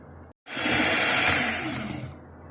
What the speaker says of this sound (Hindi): अब हम ऑयल डाल देंगे और दोबारा बीट करेंगे।